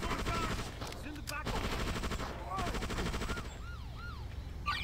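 Gunfire from the Just Cause video game rattles in rapid machine-gun bursts, with wailing siren-like tones sweeping through the dense, continuous battle noise.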